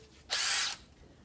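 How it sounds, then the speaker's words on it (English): A power drill whirs in one short burst of about half a second, close and loud against an otherwise quiet room, driving screws while fitting trim on a laminate dinette table in a 1960 Shasta. "my drill"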